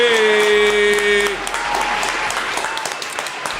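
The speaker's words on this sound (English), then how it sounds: "Let me hit the round of applause for my man Mero." A round of applause sound effect played on a radio show, a burst of clapping and cheering rising over a sustained tone, then thinning out under a voice.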